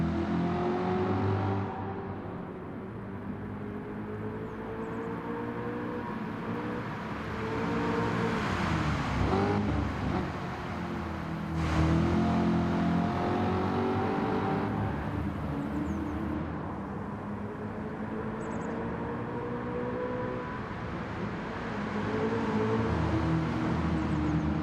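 Car engine from the racing game Gran Turismo 7 hums steadily throughout, rising and falling with revs as the car jerks a little under controller input, with no talk over it.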